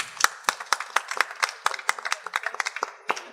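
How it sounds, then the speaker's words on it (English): Scattered, distinct hand claps from a small audience at a presidential debate, close and sharp, irregular in rhythm with individual claps standing out rather than merging into a roar. "Give him a round of applause."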